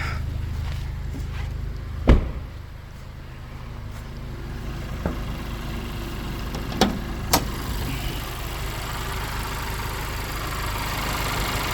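A 2021 Honda Civic Type R Touring's VTEC turbo engine idles steadily with the hood open, a low continuous hum interrupted by a few sharp clicks and knocks nearby.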